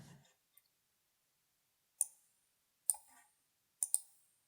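Computer mouse clicks, three to four sharp, quiet taps spaced about a second apart, some in quick double pairs, in an otherwise silent room.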